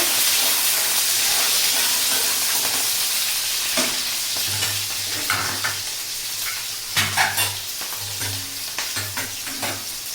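Onions brown in hot oil in a pan for rope fish curry, with a dense, continuous sizzle and hiss. Scattered scrapes and knocks come from stirring.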